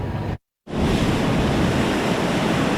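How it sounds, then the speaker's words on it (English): Massive storm waves from Tropical Storm Ophelia crash ashore at Atlantic City amid heavy wind, making a loud, continuous roar broken by one brief silent gap. "Massive waves crashed ashore Saturday afternoon in Atlantic City."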